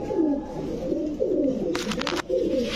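Full Jabra pigeons coo steadily at close range, their low throaty calls overlapping, with a brief fluttering rustle partway through.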